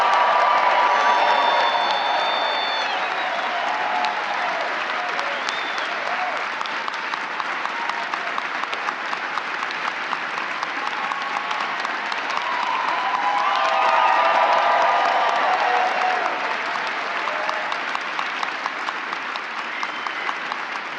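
A large awards-show audience applauds Grammy nominees with sustained, dense clapping that swells and holds steady, with some cheering mixed in.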